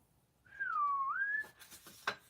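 A single clear whistle glides down then up in a bending, beep-like tone, imitating R2-D2's robot chirp, followed by a few faint clicks.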